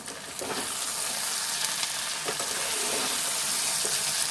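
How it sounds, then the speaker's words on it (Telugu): Okra curry stirred as it fries in oil in a pan, giving a steady, close, even sizzle with faint scraping stir sounds throughout and no talking. "ఆయిల్లో మనం మగ్గించుకుంటున్నాం కాబట్టి మళ్ళీ అయితే కలుపుకుందాం"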